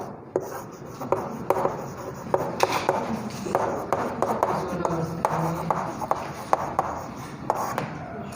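Handwriting on a board or page makes a steady series of scratching and tapping strokes, fairly close and moderately loud, with no talk.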